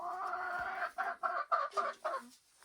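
Hens cluck in a series of short bursts inside a winter greenhouse, with a steady low murmur of clucking before about six distinct, fairly close calls in a row, no talking over them.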